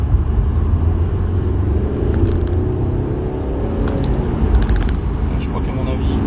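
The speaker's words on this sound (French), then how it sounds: "ça fait bizarre déjà d'avoir une voiture qui avance" A car rolls along a congested road in traffic, giving a steady low engine rumble and road noise under someone talking.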